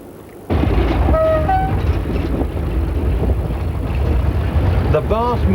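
A train runs along a railway track through the open flow country of Caithness and Sutherland, a steady loud rumble with rhythmic clatter and brief squeals, starting suddenly and continuing throughout.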